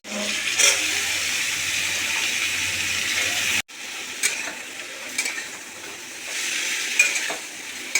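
Chicken with diced potato, papaya, carrot and beans stirred in a pan, with steady close sizzling and scraping throughout and a brief hush partway through before the stirring and frying noise resumes.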